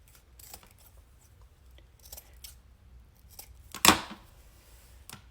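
Scissors cut wreath ribbon into dovetail ends with a few soft snips and rustles, then one louder, sharp crisp cut near the end, close and otherwise quiet.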